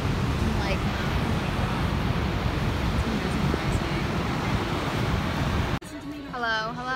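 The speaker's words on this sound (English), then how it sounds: "So we're right at the edge of the falls." At the edge of Niagara Falls, the waterfall gives a dense, continuous roar of crashing, splashing water, loud and close. It ends abruptly and gives way to a person talking in a quieter setting.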